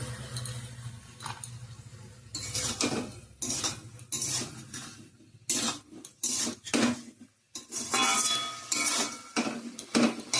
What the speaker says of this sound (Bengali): ভালো করে কষিয়ে নিয়ে তারপর আসছি